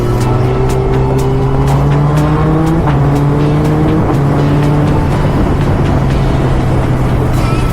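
A Yamaha R3 and a Kawasaki ZX-10R riding together: a loud, continuous engine drone with pitch climbing through the gears, close and steady for the whole stretch.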